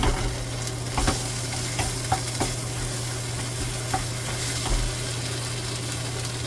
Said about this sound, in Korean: 간장이 이렇게 지글지글 끓어서 어느 정도 쫄았을 적에